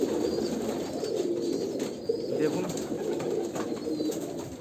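An Andhra Kalanka pigeon, a male bird from a pure bloodline, coos in a low continuous rumbling murmur close by, with someone briefly speaking over it.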